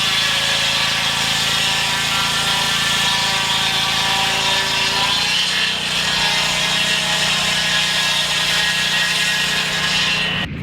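A sawmill cuts boards from a red oak log with a loud, steady grinding roar of blade through wood that carries on throughout, its low tone shifting about halfway as the cut changes.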